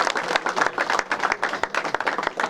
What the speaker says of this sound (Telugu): చప్పట్లతో సన్మానం కోరుతున్నాం